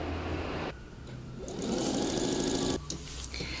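A sewing machine stitching once around a seam on a jacket: a fast, even mechanical whir that pauses briefly, then runs again, starting and stopping close by without talk.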